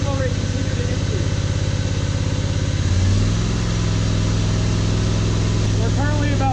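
An engine runs at high throttle, driving a high flow power steering pump on a test rig. The pulsing drone is loud and close, rises and settles partway through, and a person talks over it.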